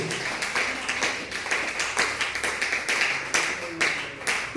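A church congregation claps together during a Spanish-language sermon, producing a steady, rhythmic run of close, loud claps with voices mixed underneath.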